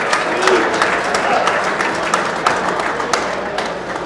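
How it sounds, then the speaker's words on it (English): A large banquet crowd at a Hellenic awards ceremony applauds an honoree with dense, continuous clapping, loud and close, with sharper individual claps standing out from the steady roar throughout. "Another round of applause for Luke."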